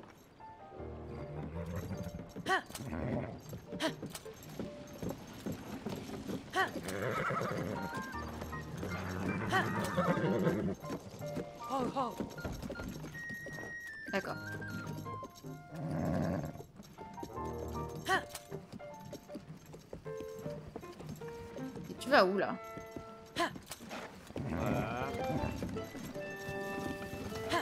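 A horse plodding along with clopping hooves and an occasional whinny, moving and stopping while people talk over it in French.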